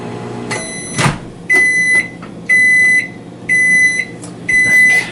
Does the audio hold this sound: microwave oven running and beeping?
yes